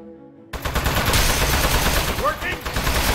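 Video-game gunfire against a metal enemy in Aperture Desk Job, a dense, loud burst of rapid shots that starts abruptly after a brief quiet moment and keeps going, with voices briefly rising over it.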